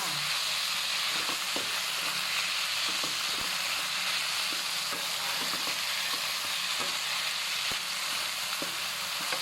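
Sator stink beans stir-fried in a pan for a shrimp-paste and minced pork dish give a steady close sizzle, with the scrape and clack of a spatula tapping the pan at irregular intervals.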